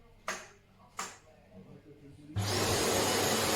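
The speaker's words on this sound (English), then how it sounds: "I'm going to turn this Hoover on and press the roller brush down" A Hoover HL500PT upright vacuum cleaner switches on after two faint clicks, then runs with a loud, steady roar that continues to the end.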